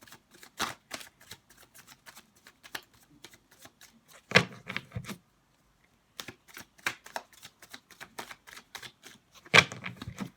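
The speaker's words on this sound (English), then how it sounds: "So I'll shuffle 2 more times" Tarot cards shuffled by hand give bursts of quick, crisp riffling clicks and slaps. Two longer riffle runs stand out among shorter flicks and brief pauses, close and fairly loud, with no talking.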